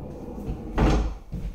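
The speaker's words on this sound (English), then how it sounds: "Now, I do like these sliding doors." A sliding door in the bathroom of a 2020 Fleetwood mobile home rolls along its track, a close rumbling slide with a thud near the middle and a softer bump at the end, with no talking.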